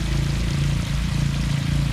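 Water pours steadily into a garden pond, a loud, close, continuous rushing stream with a low churning hum beneath it.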